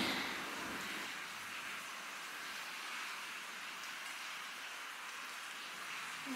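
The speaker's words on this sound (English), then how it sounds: "it's like raining really bad" Heavy rain pours steadily in a dense, unbroken hiss, close and fairly loud, with no voices.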